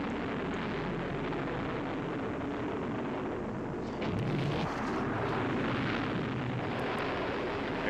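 A missile launching in the naval strategy game Fleet Command, a sustained roaring rumble with a heavier surge midway, loud and continuous with no voices.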